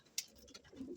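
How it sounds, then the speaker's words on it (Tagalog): A pigeon coos softly nearby in a fancier's loft, a low throaty murmur following a sharp brief rustle near the start, heard faint and close. "Ayan, itong ibon natin si Berta."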